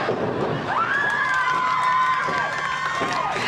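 A wrestling crowd at an Oklahoma pro wrestling TV show cheers loudly and continuously, the roar swelling with high shouts and whistles for about three and a half seconds.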